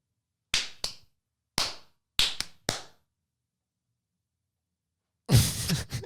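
A few sharp hand claps in two clusters, close and dry with short gaps between, then a louder burst of clapping near the end, inside a quiet studio setting for a podcast.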